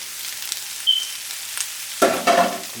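Onions and garlic hit hot oil in a pan with a sudden sharp sizzle and crackle, close and loud, after a brief quieter lead-in; no talking.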